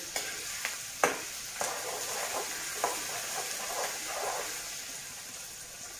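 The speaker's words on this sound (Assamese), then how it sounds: "পিঁয়াজ নহৰু শুকান জলকীয়া দুটা অলপ ভাজি ল'লোঁ" Onion, garlic and two dried chillies fry in oil for jackfruit curry, a continuous sizzle broken by several clinks and scrapes of a spoon stirring the pan.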